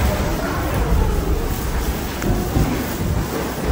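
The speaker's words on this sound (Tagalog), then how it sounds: "Sobrang hangin na po talaga sa labas." Strong wind roars steadily outdoors at Inuyama Castle, Japan, a loud continuous rush buffeting the microphone with low gusts and no clear pauses.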